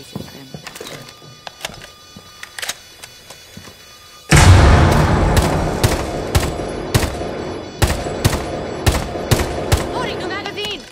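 Loud burst of gunfire in Rainbow Six Siege breaks in after a quieter stretch, then continues as a run of sharp, rapid shots with trailing rumble; players talk over it.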